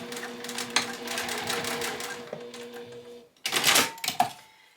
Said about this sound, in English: So that'll just be a quick back and forth stitch there.